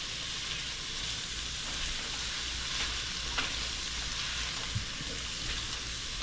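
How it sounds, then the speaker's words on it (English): Onions are mixed into canned corned beef frying in a pan, with a constant moderate sizzle and a few soft scrapes and taps of the spoon as it is stirred. "Now I'm going to add my onions in there. Mix it up well."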